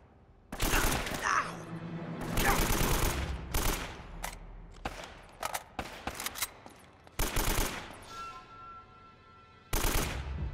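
AK rifle gunfire in the Uncharted action game, loud bursts and single cracks spread through the clip with short pauses between volleys.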